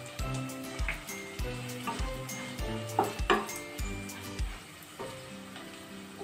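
Amaranth greens frying in a pan, a soft sizzle beneath repeated rhythmic clinks and scrapes of a utensil stirring against the pan, fairly close and quiet.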